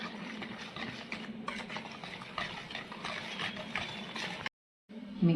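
Powdered sugar, 150 grams, being stirred into ghee for eggless heart-shaped cookies, giving a steady close scraping and mixing rustle that runs continuously, then a brief pause and a final louder scrape.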